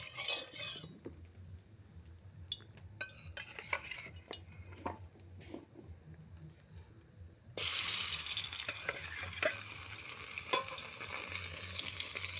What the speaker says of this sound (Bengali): কড়াই তেল দেওয়া হয়ে গেছে, এখন মাছ দেব।